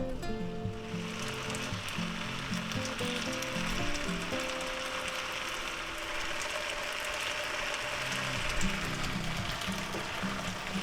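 Sliced potatoes sizzle steadily in a hot pan, a continuous quiet hiss and crackle running throughout with a low hum of music or kitchen noise underneath and no talking.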